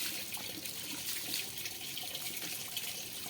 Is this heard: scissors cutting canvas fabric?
no